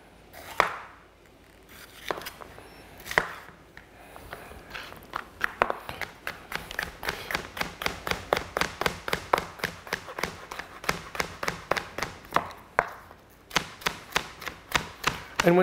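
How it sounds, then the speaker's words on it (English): A knife julienning a pepper on a cutting board, starting with a few scattered taps, then settling into rapid, even chopping strokes that stay close and crisp, with brief pauses between runs. "I'm going to julienne up my pepper."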